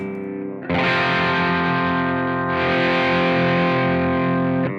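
A distorted electric guitar chord through a Marshall Guv'nor-style overdrive pedal in AmpliTube 5 rings out loud and sustained after a quieter opening, thick with overdrive and slowly fading at the end.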